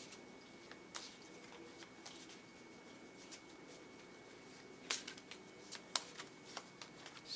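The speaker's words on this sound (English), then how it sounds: "So I'm going to shuffle the Fantasy Cats Oracle deck and pull a couple of those for you." A Fantasy Cats Oracle card deck is shuffled by hand, giving quiet, continuous papery rustling with a few sharper snaps and riffles, close and alone with no talk.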